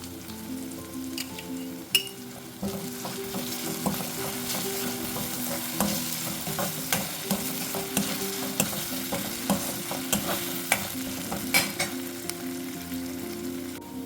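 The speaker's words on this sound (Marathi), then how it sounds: "यामध्ये मी घालत आहे आलं लसणाची पेस्ट" Ginger garlic paste sizzles in a pan alongside onions while a spoon stirs and clinks against the metal repeatedly, a continuous close frying hiss with no speech.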